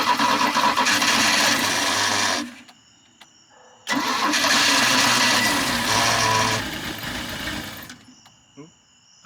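A cheap used ski boat's engine cranks and catches twice, each time running loudly for a few seconds before cutting off abruptly into near silence, with a faulty throttle linkage.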